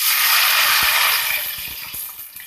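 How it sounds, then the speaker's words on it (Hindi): Water is poured into a cooking pot of golden fried onions while making plain rice: a steady, loud hissing splash that gently fades toward the end, with faint clinks and no voices. "इसके अंदर डाल देंगे हम पानी।"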